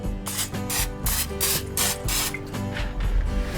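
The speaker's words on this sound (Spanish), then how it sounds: "lo voy a engrasar con aceite en spray" Quick bursts of cooking oil spray hiss onto rectangular gelatin molds, several short sprays in a row, close and clear over steady background music.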